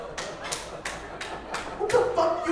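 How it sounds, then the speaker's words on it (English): Several sharp hand claps at a steady, fairly quick rhythm, close by, with a person's voice rising in the background toward the end. "What the fuck are you clapping for?"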